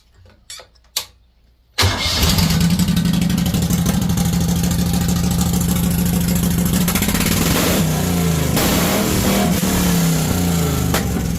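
A pulling tractor's engine cranks and catches after a few short clicks, then roars to life and runs loud and close with rough revving swells, heard alone.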